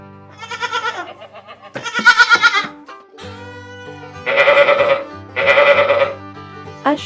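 A farm sheep bleating with several drawn-out, quavering baas, loud and close, separated by short pauses with no voices over them.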